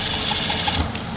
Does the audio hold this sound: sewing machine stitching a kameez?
yes